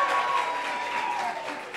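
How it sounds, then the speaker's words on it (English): Applause from a crowd at a quinceañera, a dense continuous patter of clapping with a faint voice over it. "A big round of applause, Ivan."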